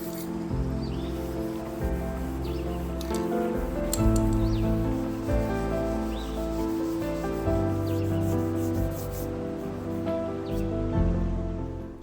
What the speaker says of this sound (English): In between coats, we'll sand gently with a 320 grit sponge